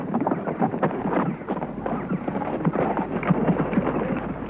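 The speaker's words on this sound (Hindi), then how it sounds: "घोड़ा नहीं, बिजली है। क्या दौड़ता है।" Horse galloping in a film scene, a steady rapid drumming of hoofbeats with wind and rushing background noise, fairly loud and continuous.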